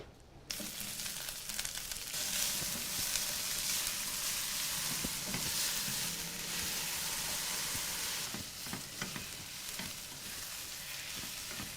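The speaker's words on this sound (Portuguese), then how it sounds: "Então agora a gente entra no processo de refogar" Vegetables sautéing in a pan, a steady bright sizzle with occasional stirring scrapes and bursts of louder frying, close and continuous, with no talk.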